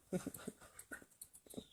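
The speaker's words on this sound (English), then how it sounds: "you're a great looking dog." A dog whimpering and panting nearby, soft breathy pants broken by small whining yips in an uneven pattern, fairly quiet and with no talking.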